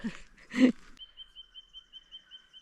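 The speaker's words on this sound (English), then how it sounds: "It's nice just sitting here, listening to the birds." A short burst of nearby activity, then a thin, high bird call repeating steadily, about ten regular chirps in an otherwise quiet bush setting in Warby-Ovens National Park, Victoria, Australia.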